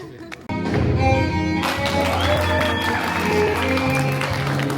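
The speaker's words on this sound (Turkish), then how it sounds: "Ona bir alkış." Wedding guests at a nikah ceremony break into applause after a brief pause, the clapping swelling and holding over tonal music and a loud, reverberant hall.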